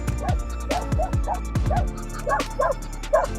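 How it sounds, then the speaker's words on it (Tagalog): Several dogs barking and yipping along a roadside, a burst of sharp, fairly close barks with a few higher whimpering yips over a constant low engine rumble. "Daming aso rito."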